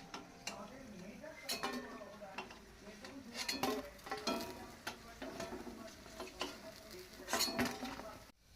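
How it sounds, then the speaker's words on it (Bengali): Gram-flour fritters with green chilies frying in a pan, with a soft steady sizzle under repeated clinks and scrapes of a utensil stirring against the pan. "আবার শেষে এই যে লঙ্কা, কাঁচা লঙ্কা দিয়ে ভাজা হচ্ছে।"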